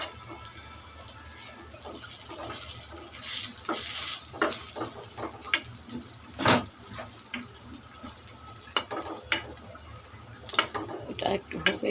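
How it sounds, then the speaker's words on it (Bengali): Potato chops frying in oil in a home kitchen, a soft steady sizzle broken by scattered clinks and stirring knocks, with faint talk now and then. "সবগুলি চপ ভেজে নিলাম আপুরা, শেষ ভাজা আমার।"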